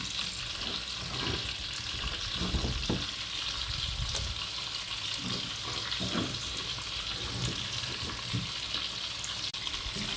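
Rice and vegetables frying in a pan with black pepper and tomato, stirred with a utensil: a steady, close, hissing sizzle runs throughout, with soft scraping bursts from the stirring and no talk.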